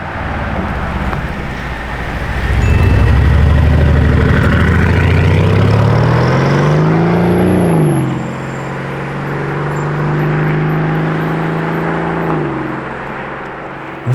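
A Lamborghini Urus SE leaves the factory in fog, its engine swelling loudly as it passes close by, then settling to a lower hum that rises once more before fading.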